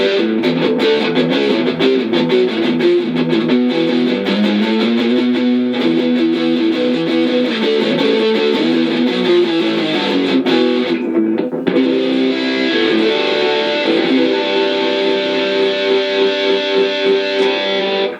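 Electric guitar played through a Positive Grid Spark GO amp with a heavier, driven tone and no reverb or delay, sustained chords ringing continuously and loud up close, with a brief gap before the playing resumes.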